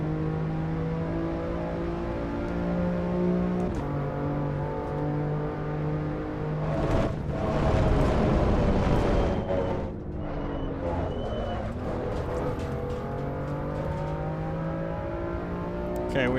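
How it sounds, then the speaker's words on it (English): A race car engine in the video game Assetto Corsa EVO hums at steady pitch, surges into a loud revving burst, then drops back to a droning off-throttle tone with shifting pitch. "And you hear the off-throttle engine sound."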